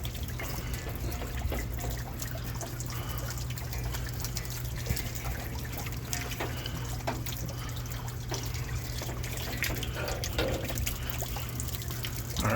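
Water sprayed from a hose onto a hot York heat pump motor to cool it, a steady, fairly faint hiss and trickle with splashy patches running throughout.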